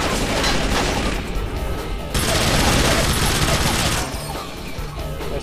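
Dense, sustained turret gunfire in the video game Infernal: loud rapid automatic shots run nearly unbroken, with a brief dip in intensity partway through.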